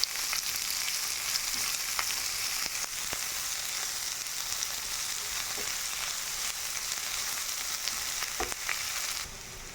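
Chopped onions sizzle and fry in a hot pan for pongal dosa, a steady, close, bright crackling hiss with occasional small pops and stirring clicks, no voices.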